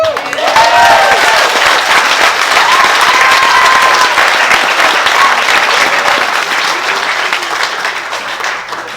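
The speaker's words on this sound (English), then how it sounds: "Can we just have a round of applause?" Wedding guests break into loud, sustained applause during the reception speeches, a thick close wash of clapping with a few cheers and whoops on top, tapering slightly toward the end.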